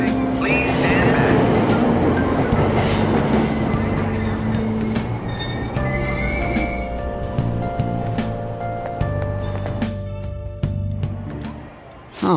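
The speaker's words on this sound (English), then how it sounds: "Train doors are now closing." Train doors sliding shut at a station platform in Persona 5 Royal, with a steady rumble of the train and station bustle, a voice over the speakers, and bright tonal chime-like notes.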